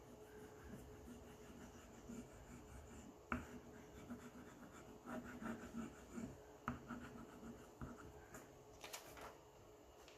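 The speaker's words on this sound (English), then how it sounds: "I'm just going to rub over top of the black, which should transfer" A nickel is rubbed over paper to transfer pencil marks, a faint, close, scratchy rasp of repeated strokes with small taps and irregular pauses.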